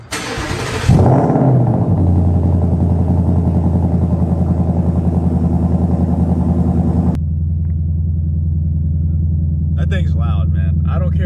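A 2024 Ford Mustang GT (S650) fires up with a sharp, loud burst, then settles into a deep, steady, throbbing idle rumble that eases slightly later on.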